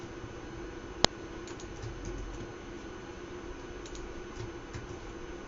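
A computer keyboard in use during an Arduino Mega2560 project: one sharp, close keystroke followed by a few faint, sparse taps over a quiet, steady background hum.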